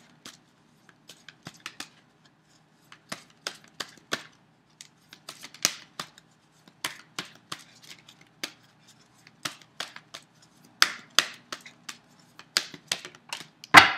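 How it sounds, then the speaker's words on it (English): A deck of oracle cards being shuffled by hand, heard as a quiet, irregular series of crisp card snaps and riffles spread across the stretch, with short pauses between bursts and no talking. "So let's shuffle that again."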